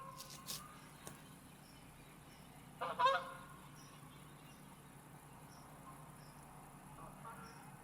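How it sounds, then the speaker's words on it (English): Geese honk briefly while flying overhead during an ice storm power cut, a short burst of distant calls over a steady background of faint insect chirping in a quiet outdoor setting. "How about that? Geese flying over."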